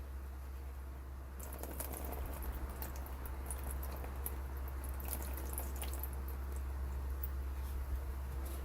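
Distilled water poured over an etched slice of the Toluca meteorite gives a steady, close splashing patter with scattered bright drips, running continuously with no talk.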